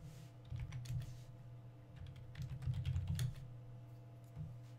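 Typing on a computer keyboard to enter a terminal command for a React project, a steady run of close, quick key clicks over a low hum, with no talk.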